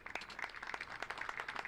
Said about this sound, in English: I've just heard clapping.